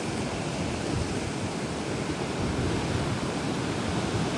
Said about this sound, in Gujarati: દરિયામાં ફૂલ તોફાન